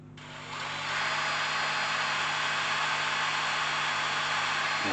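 A power drill boring small pilot holes in a workshop starts up and then runs as one steady, loud, continuous whine close by, with no talking.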